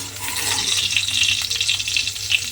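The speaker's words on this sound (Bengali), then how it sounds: "আলুটা আমি এখানে খুব ভালোভাবে ভেজে নিয়েছি।" Potatoes frying in hot oil in a home kitchen pan, a steady close hiss and crackling sizzle with faint stirring scrapes, no voice.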